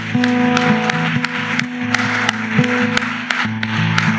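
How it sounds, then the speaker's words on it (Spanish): Church congregation clapping hands in praise during a sermon: steady, rhythmic claps roughly every half second over sustained musical tones, loud and continuous. "¿Por qué no le damos a aquel que es el Rey de Reyes y el Señor de los Señores una alabanza por medio de nuestras palmas?"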